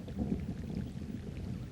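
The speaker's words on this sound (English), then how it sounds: "Then it started to rain." Rain sets in outdoors in the Canadian wilderness under a low, rolling rumble of distant thunder, forming a soft, continuous wash at a fairly low level.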